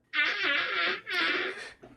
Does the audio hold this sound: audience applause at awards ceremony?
no